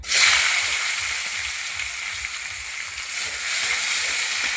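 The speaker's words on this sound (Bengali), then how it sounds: "ওর মধ্যে তেল দিয়েছি, এবারটা দিয়ে দিচ্ছি টমেটো কুচি" Chopped tomatoes hit hot oil in a pan and fry with a loud, steady sizzle that holds close and continuous throughout, with no voices.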